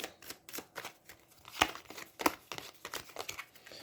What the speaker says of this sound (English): I gotta shuffle these.